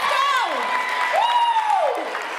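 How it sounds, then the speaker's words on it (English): Audience applause at a motivational speech rises under a loud, sliding whoop from one voice, with crowd noise filling the background throughout. "A round of applause."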